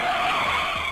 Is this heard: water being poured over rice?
no